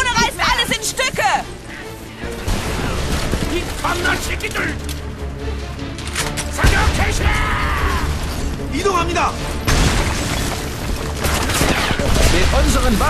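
Heavy combat din from the Homefront video game, with booming tank cannon and gunfire over clanking mechanical noise and debris, dense and continuous, while voices shout over the fighting.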